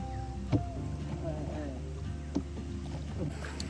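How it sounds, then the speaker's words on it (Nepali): Small rowboat gliding across Rasa Taal, a lake in Sunsari near Itahari, with soft water and boat sounds, a couple of light knocks, and faint voices and background tones around it. "अहिले चाहिँ हामी एकदम डुङ्गामा आनन्दसँगले चस्मा डुलिरहेछौँ"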